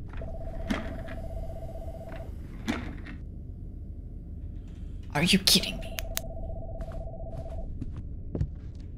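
Telephone ringing inside the horror video game Dead Signal, a steady repeating electronic tone in two long bursts separated by a pause, with a person talking and reacting over it.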